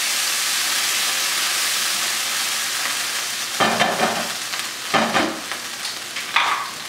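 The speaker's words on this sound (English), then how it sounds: "I have a hot pan here on medium, and I'm just gonna cook my sauce with some butter" Butter sizzles and melts in a hot pan on medium heat, a steady frying hiss that swells with several bursts of crackle as the pan is stirred.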